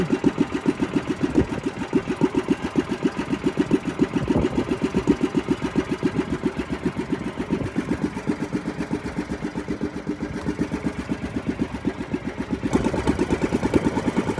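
A mid-pitched fishing boat engine chugs steadily with a rapid, regular thumping rhythm, running continuously at moderate volume with no voices, at sea off San Jose, Occidental Mindoro, during tuna fishing.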